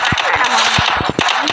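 Rapid gunfire crackles in a Roblox Free Fire match, a loud burst of sharp shots in quick irregular succession over a dense game soundtrack, with someone talking briefly.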